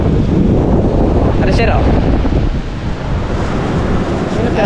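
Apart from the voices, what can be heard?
sea waves and wind during typhoon season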